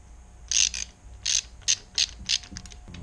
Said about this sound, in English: let's go ahead and get these spark plugs out of here and see what they look like